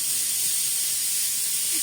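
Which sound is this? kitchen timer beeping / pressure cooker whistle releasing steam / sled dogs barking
pressure cooker whistle releasing steam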